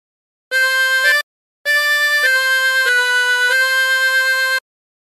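Phrase of Battle Hymn of the Republic on a 20-hole tremolo harmonica, bright reedy sustained notes with a wavering tremolo, a short note then a longer run of held tones.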